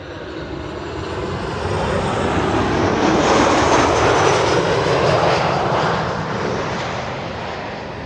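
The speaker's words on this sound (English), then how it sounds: "This is KLM flight 1512, arriving from Barcelona, 1 hour 45 minutes on the way." A KLM passenger jet arriving at Schiphol airport on the Kaagbaan runway roars past, a broad, loud engine rush that swells to a peak midway and slowly eases off, with no voices.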